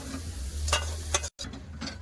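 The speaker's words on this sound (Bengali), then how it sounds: "এই চিংড়ি মাছ বেশি ভাজবে না দু তিন মতো ভেজে নেবো" Small shrimp frying in a pan make a soft sizzle broken by a few sharp scraping stir strokes and a brief dropout, heard close and with no talk.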